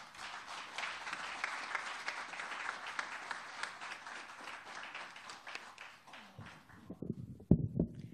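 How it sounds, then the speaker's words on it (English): Faint applause from an audience follows a minister's speech at a technology programme launch, a soft, even patter of many hands that dies away into a few louder scattered claps and knocks near the end. "Let's give the minister another round of applause for that."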